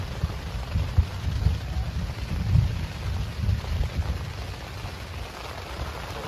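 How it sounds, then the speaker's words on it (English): Rain pouring down at a campsite, a dense steady patter with low rumbling thunder swelling underneath, no voices heard. "We got to the campsite and it started pouring and thundering and lightning."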